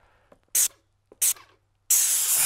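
Airless paint sprayer spraying stain, two short sharp hissing bursts followed by a longer sustained spray hiss, close and loud against near silence.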